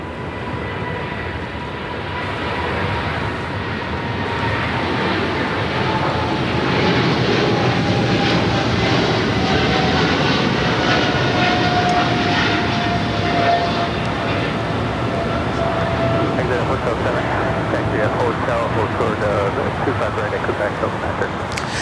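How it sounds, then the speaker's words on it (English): EVA Air Cargo Boeing 777 freighter departing runway 25 right at LAX, bound for Taipei: a steady, loud jet engine roar that swells after the first couple of seconds and holds broad and strong throughout. "we do have the Eva Air Cargo 777 freighter heading to Taipei"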